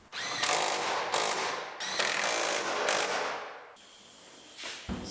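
Ratchet tightening bolts while a door is fitted back onto a Buick during a body rebuild, with several bursts of rapid metallic clicking and whirring, loud and close, followed by a sharp clank near the end.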